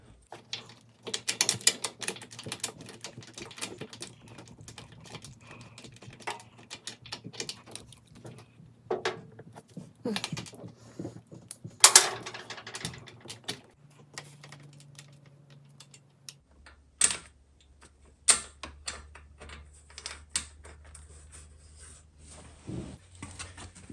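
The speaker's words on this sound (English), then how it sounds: "so just gonna put the socket back on" Socket wrench working a spark plug loose on a Honda CB550 motorcycle, with close, irregular ratcheting clicks and small metallic knocks in short bursts between pauses, no speech.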